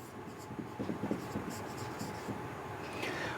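A pen scratches out an account name on a trial balance sheet in short, quiet strokes, with low speech faintly under it.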